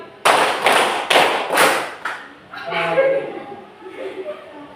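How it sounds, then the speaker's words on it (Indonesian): Students clapping together in a classroom activity: four loud, crisp unison claps in quick succession, then the clapping stops and voices take over with talk and light laughter. "Oke, diulang, tepuk 2 kali."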